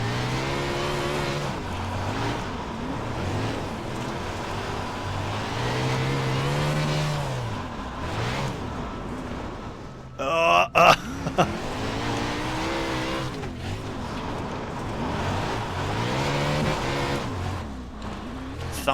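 A sprint car's engine snarls steadily in the iRacing sim at the Chili Bowl, revving up and easing off in waves through the corners, with a brief burst of harsh clatter partway through before the loud drone resumes.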